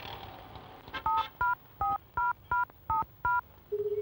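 Telephone keypad being dialed: eight crisp dual-tone beeps in a quick, fairly even rhythm, close and clear, followed by the start of a steady ringback tone with no talk.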